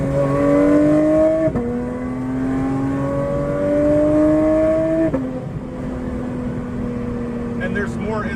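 A Porsche 992 GT3 Touring fitted with a Dundon exhaust pulls hard through the gears, its rising flat-six wail climbing steadily, broken by two quick upshifts, loud and close throughout.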